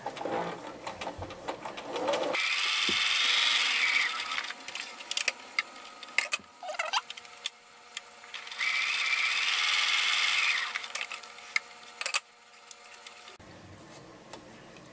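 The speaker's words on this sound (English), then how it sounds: "we're going to go to the sewing machine and we're going to sew these" A sewing machine runs in two long, steady mechanical bursts with clicks and handling noises between and after them, close by.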